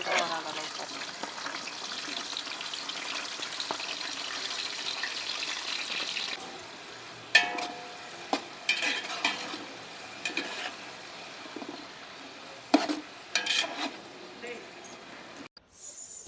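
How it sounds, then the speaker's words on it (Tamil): Green chillies and onions sizzle and get stirred in a pan, a steady fry at first, then broken by scraping, clinks and water sounds, with a voice talking over it. "பச்சை மிளகா கொஞ்சம் வதங்கி கிடைச்சதுக்கப்புறம் வெங்காயம் போட்டுக்கலாம்."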